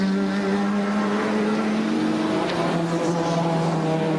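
A touring car at the 1992 Bathurst 1000 fires up and accelerates out of the pits, its engine holding a steady, loud, sustained drone with no voices over it.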